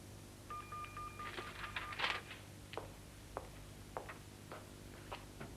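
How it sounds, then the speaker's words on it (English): A faulty office fax machine dials out, a few steady tones followed by a rapid run of beeps and then sparse, evenly spaced clicks, quiet and close with no voices. "could you do something about this fax machine?"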